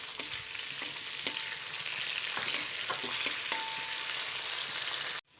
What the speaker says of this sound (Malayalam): അപ്പം ജീരകവും വെളുത്തുള്ളിയൊക്കെ കിടന്ന് ഒന്ന് മൂത്ത് ഒരു നല്ല മണം വരണം